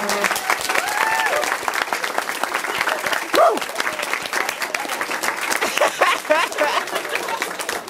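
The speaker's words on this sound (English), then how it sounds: "Let's give them a big round of applause." A school audience at a Project Grad hypnotist show bursts into loud, sustained applause. Dense clapping fills the whole stretch, mixed with cheers and scattered voices.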